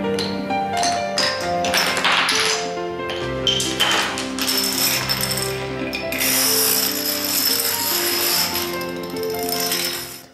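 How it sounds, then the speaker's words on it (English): A long row of dominoes toppling in quick succession, a dense continuous clatter of rapid clicks and taps lasting about ten seconds, loud and close, with no talking. "How many of you ever played dominoes, knocking them down that way?"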